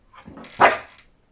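A single loud, close bark from a husky dog, preceded by softer vocal noise, in a home setting in Qatar.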